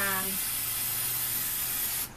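A spray paint can sprays steadily onto a folding chair as part of repurposing it, giving a continuous broadband hiss that runs close and loud for nearly the whole stretch, with brief speech at the start.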